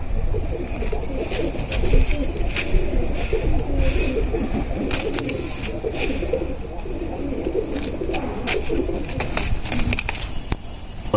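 Black-necked Bagha pigeons coo in repeated soft, throaty calls at close range, with occasional sharper chirps over a constant low background.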